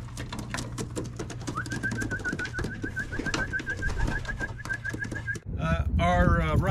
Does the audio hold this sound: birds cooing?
yes